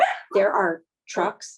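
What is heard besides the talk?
dog barking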